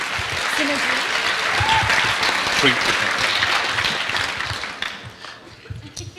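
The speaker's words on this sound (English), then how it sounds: "Can we give her a round of applause, please, will you?" A round of audience applause at a leadership talk, dense and steady clapping that fades out near the end, with faint voices underneath.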